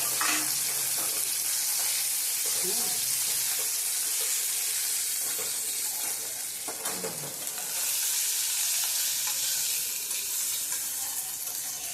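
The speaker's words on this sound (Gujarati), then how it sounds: "હવે આપણે તેલની અંદર પનીરને નાખી દઈશું અને આ પનીરને આપણે છે ને સાતળી લેવાનું છે." Cubes of paneer frying in hot oil on low heat in a home kitchen, a steady, dense sizzle that holds close and loud the whole way through, with occasional stirring, and nobody speaks.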